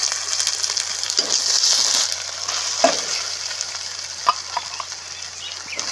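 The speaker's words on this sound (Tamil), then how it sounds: "ஒரு பட்டை பச்சை மிளகாய் கருவேப்பிலை வெங்காயம் தக்காளி இதெல்லாம் சேர்த்து நல்லா வதக்கிட்டு அதுக்கப்புறம் ஈரலை சேர்த்துக்கலாம்" Cinnamon, green chilli, curry leaves, onion and tomato sauté with liver in a pan for mutton biryani, a bright steady sizzle with a few sharp spoon clinks and scrapes, close and alone.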